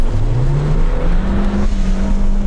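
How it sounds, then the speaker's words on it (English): An off-road car engine revs hard and steadily while climbing uphill, its pitch slowly rising as it strains under load, loud and close with no voices. "I just revved the nuts off it and it hauled its ass up."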